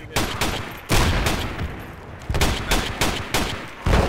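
Mortar rounds fire in the Project Reality military shooter, with repeated loud, sharp blasts roughly every half second to second, some in quick pairs, each trailing into a rumbling decay.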